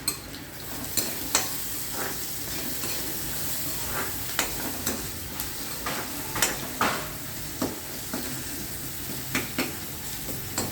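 Onions cooking with salt in a pan, a steady close sizzle punctuated by regular scraping and tapping strokes of a spoon as they are stirred, and no talking.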